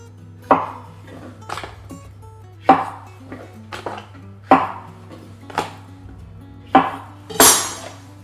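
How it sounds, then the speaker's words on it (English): Chestnut mushrooms are halved with a knife on a board, a series of about eight sharp, close chops spaced roughly a second apart, each with a short clattering ring, no talking. "Mushrooms, I'm going to half those."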